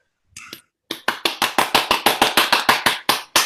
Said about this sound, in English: So can we have a round of applause for him?